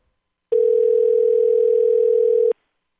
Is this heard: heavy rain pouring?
no